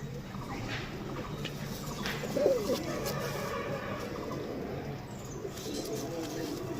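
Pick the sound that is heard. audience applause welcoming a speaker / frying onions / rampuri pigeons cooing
rampuri pigeons cooing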